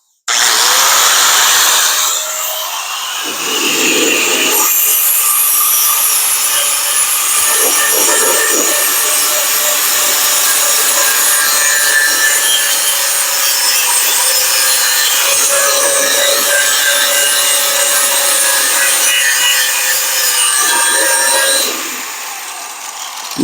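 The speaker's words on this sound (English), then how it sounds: "I'm just gonna grind a little bit right here where the motor mount's gonna go." An angle grinder with a flap wheel grinds paint off the frame of a 1940 Dodge rat rod, a loud, sustained high whine with rough scraping that continues almost unbroken for over twenty seconds, briefly easing near the start and end.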